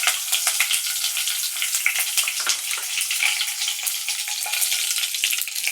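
Curry leaves and dried red chillies fry in hot oil for a Tamil fish gravy, making a loud, busy crackle and sizzle that pops and spatters close up without a break. No one speaks over it.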